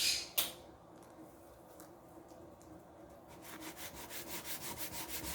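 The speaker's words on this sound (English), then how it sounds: "The coarser the sandpaper, the faster you will go." Sandpaper rubbing back and forth across the wood of a ukulele, a steady rhythmic scraping that grows louder and more regular toward the end, close and alone after a brief sharp knock at the start.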